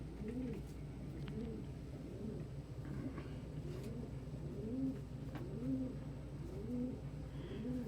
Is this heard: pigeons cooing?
yes